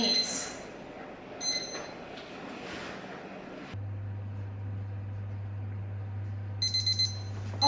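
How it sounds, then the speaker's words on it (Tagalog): A kitchen timer for waffles beeps in short rapid bursts at the start and again near the end, with a steady low hum in between. "Okay, tapos na ating timer."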